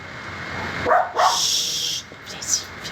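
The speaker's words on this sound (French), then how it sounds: "Arrête de japper." A dog yips and barks in a couple of short bursts during a quiet indoor meditation session, close by and fairly loud, with softer sounds trailing after.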